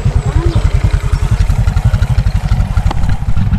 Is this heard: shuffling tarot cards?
no